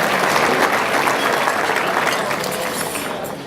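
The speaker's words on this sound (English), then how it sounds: "Please give them a round of applause." Sustained applause from a seated audience at an annual meeting breakfast, honoring the hotel servers and kitchen staff; dense steady clapping that holds strong and tapers slightly toward the end, no voices over it.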